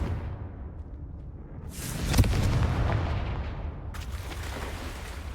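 In a Harry Potter video game, a Confringo blasting curse goes off with a loud, deep boom that swells and rumbles for several seconds, with a second sharp burst near the end and no talk over it.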